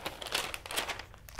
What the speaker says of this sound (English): I start by crumpling up sheets of newspaper.